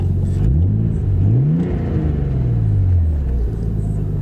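A warmed-up Nissan R32 Skyline engine idles rich with a steady low rumble and wavering pitch swings, close and loud, with no one talking.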